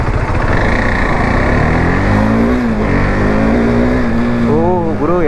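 A motorbike fitted with an Engage air filter pulling hard under acceleration, its engine note loud and close as it climbs steadily in pitch and then wavers near the end.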